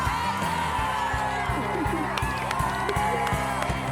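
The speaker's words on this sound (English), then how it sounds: "To be out there with a crowd cheering, and all of the community were there" Crowd cheers and whoops at a community homecoming celebration after Hurricane Wilma in Florida, a steady mass of voices and claps with rhythmic thumps underneath, loud and continuous throughout.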